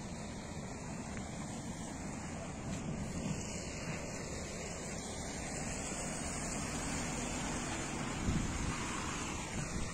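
Floodwater from a swollen river rushes across a road between Naima and Oujda after heavy rain. A steady, dense roar of water continues for the whole stretch, mixed with some wind rumble.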